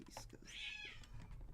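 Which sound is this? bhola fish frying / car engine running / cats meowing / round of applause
cats meowing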